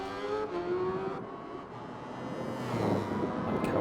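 Kawasaki racing motorcycle engine in a BSB esports game at Cadwell Park, a steady high-pitched whine rising and falling in pitch as the bike accelerates, loud and continuous with no talking.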